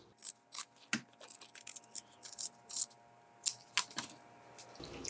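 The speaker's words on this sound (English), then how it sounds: "Then we can cut away the seam allowance in the corners around the curve." Scissors snipping away seam allowance around a curved fabric corner on a bag's cargo pocket, a string of quick, crisp close cuts in an irregular rhythm against a quiet room.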